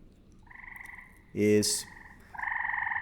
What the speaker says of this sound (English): I have all these recordings of frogs